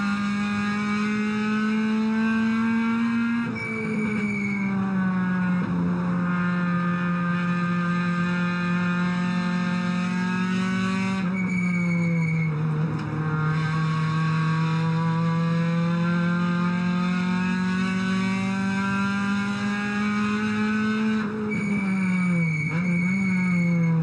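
Onboard sound from the number 7 race car at the Sydney 300, a loud, close engine drone holding high revs, dipping briefly at gear changes or braking before climbing again, with no talk over it.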